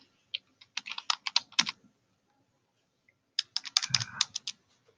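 Rapid clacking keystrokes on a computer keyboard come in two separate bursts with a pause between them, close and clear, with no voices.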